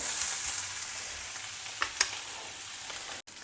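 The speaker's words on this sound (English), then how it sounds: "Add in the chopped ginger. Saute it till the ginger pieces are well fried." Chopped ginger fries in a pan with curry leaves for a South Indian puli inji, giving a steady, close sizzle throughout, with a couple of brief stirring scrapes and no voices.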